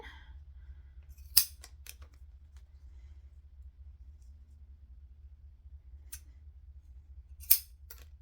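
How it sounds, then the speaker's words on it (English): Scissors snip through vinyl straps, two sharp crisp cuts a few seconds apart with a couple of softer snips, close and clear over a quiet background. "I cut it in half and then cut it in half again."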